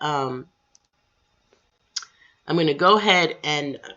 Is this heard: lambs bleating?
no